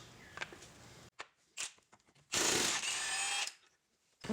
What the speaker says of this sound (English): we're going to go ahead and take off the CV axle nut